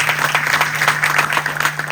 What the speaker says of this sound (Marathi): त्यांच्यासाठी एकदा जोरदार टाळ्या वाजून